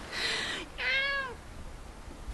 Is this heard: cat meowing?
yes